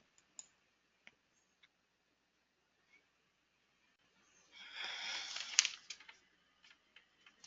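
Computer mouse clicks in a quiet room, a few sparse sharp ticks scattered across the span with a brief soft rustle in the middle and a quick cluster near the end.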